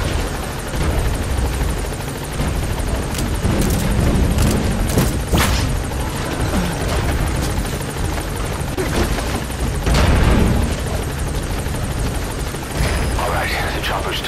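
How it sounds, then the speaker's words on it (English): Helicopter touching down in Metal Gear Solid 5, a loud steady rotor roar with low rumbling and occasional bursts, mixed with game sounds while players talk over it. "All right, the chopper's touching down."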